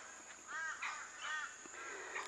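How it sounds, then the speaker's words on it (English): Crows cawing near the Minilya River, a few harsh, separate calls spaced across a couple of seconds over a faint steady background hiss. "those birds are noisy"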